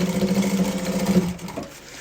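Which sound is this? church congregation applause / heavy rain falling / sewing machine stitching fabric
sewing machine stitching fabric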